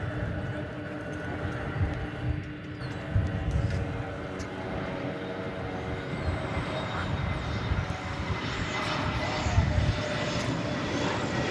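A jet airliner taxiing and turning left at DFW airport, its engine whine steady and moderately distant with tonal hums, a voice talking over it at times.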